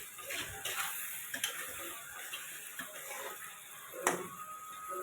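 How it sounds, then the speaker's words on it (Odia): Onions frying in a pan with salt added, a steady soft sizzle with scattered ticks and clinks of stirring, close by and moderately loud, no talking. "ଦେଖନ୍ତୁ ପିଆଜ ଆମର ଭଲ ଭାବରେ କଲର୍ଫୁଲ୍ ହେଇକି ଭାଜି ହେଇଗଲାଣି"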